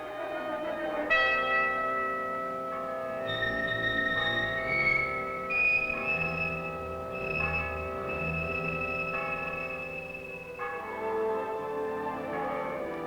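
The old campus bell at DePauw University rings on and on, its deep, sustained tolls overlapping with long, humming resonance, heard alone and moderately loud.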